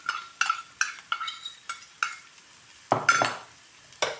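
Onion with crushed garlic and green chili is sautéed in a pan over medium heat, with a soft sizzle under repeated sharp spatula scrapes and clinks against the pan, each stroke about half a second apart.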